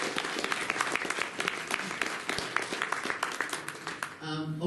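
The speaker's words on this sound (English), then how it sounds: "A round of applause." Applause and cheering from a convention audience at a comic con Q&A, a crisp burst of clapping that fades near the end as other sound takes over.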